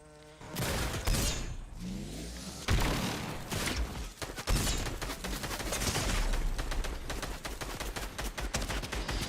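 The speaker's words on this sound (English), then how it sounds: "Legendary Excalibur rifle." Rapid bursts of legendary Excalibur rifle fire in a video game crackle loudly and continuously, mixed with other game effects and no talk.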